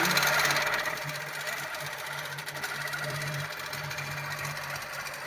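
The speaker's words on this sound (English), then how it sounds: "we'll just sew straight up the line." A longarm quilting machine stitches a pantograph pattern on a quilt, worked from the back, with a steady, rapid mechanical stitching hum and a faint low pulse running continuously at moderate, close range.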